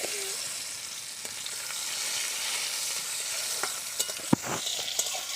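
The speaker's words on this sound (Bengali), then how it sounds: "আমি রসুনটা এখানে লাল করে ভেজে নেব" About three garlic cloves frying in oil until reddish-brown, ahead of a tomato sour curry: a faint, steady sizzle with a few soft clicks of stirring near the end.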